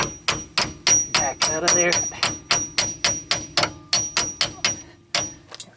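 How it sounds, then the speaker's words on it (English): A hammer bangs on the CV axle of a 2012 Honda Accord LX in a steady, evenly spaced series of about twenty sharp, ringing metallic blows, loud and close, while someone briefly speaks over them. "I'm actually going to bump this with a hammer"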